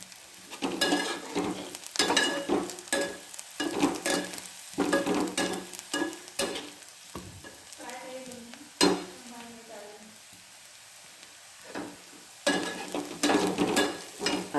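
Curry leaves and onion fry in a pan while a spatula clatters and scrapes in quick bursts of stirring, with a quieter sizzling lull midway before brisk stirring resumes.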